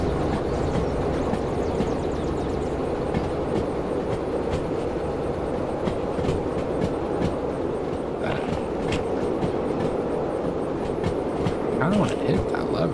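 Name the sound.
train running, from the video game Derail Valley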